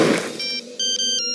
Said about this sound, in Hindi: मैं अभी राज और मीरा को फोन लगाता हूँ।